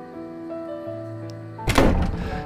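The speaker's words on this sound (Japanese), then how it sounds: "扉が大きな音を立てて閉まる" A heavy door slams shut loudly in the video game La Vie en Fleur, one sharp thudding impact with a rattling decay over a soft musical background.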